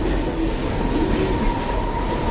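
A passenger train on the Valsad line near Virar runs along with a loud, continuous rumble and rattle of wheels on rails, steady throughout, with a faint high squeal on top and nobody talking.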